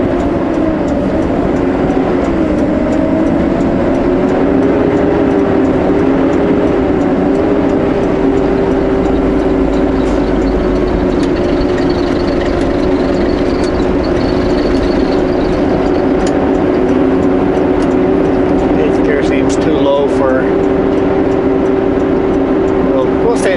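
A truck engine drones steadily in 8th gear while descending a steep 10-kilometre mountain grade on new roads, a loud, constant close-up hum with a slowly wavering pitch and faint ticks and rattles throughout.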